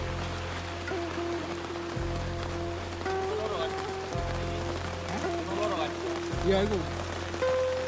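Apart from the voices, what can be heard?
heavy rain at mountain trail shelter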